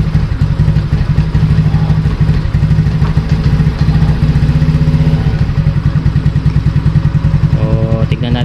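A Monarch Cub110 motorcycle engine runs close by with a steady, clattering idle that rises into light revving as it warms up, loud and continuous throughout.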